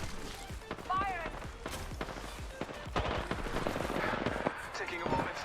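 Bursts of gunfire ring out in the battle royale shooter Apex Legends, sharp repeated cracks scattered across the moment, layered with in-game voice lines and other combat noise.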